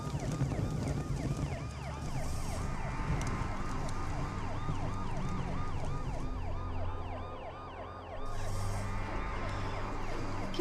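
An ambulance stuck in place sounds its siren, a loud, continuous rising-and-falling wail that repeats steadily over a low rumble of engine and traffic.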